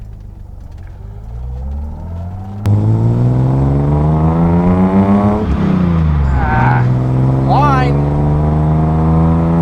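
A restomod Datsun 280Z drives and accelerates, its engine note rising loudly and close through the gears with a clear shift and tire noise, and a voice speaks briefly over it.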